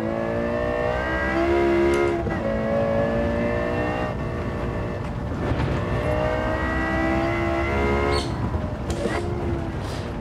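Lexus LFA V10 engine in Gran Turismo 7 revving loudly and continuously, its pitch climbing and dropping through gear changes and corners, with a brief shift near the end.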